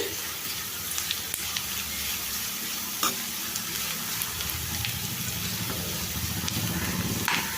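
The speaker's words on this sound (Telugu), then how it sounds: "ఒక రెండు నిమిషాలు ఫ్రై చేసుకోవాలి ఈ రొయ్యల్ని నూనెలో" Dried shrimp sizzle and crackle in hot oil in a pan, with a steady close frying hiss, scattered pops and the occasional scrape of stirring.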